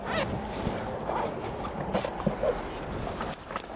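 A tent entrance zipper is pulled open in a few quick, rasping strokes close by, with faint rustling of fabric around it.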